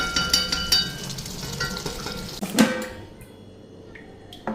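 Fish with potatoes frying and being stirred in a pan, with a soft sizzle and scraping stirs, a sharper clatter near the middle, then quieter sizzling with occasional clinks.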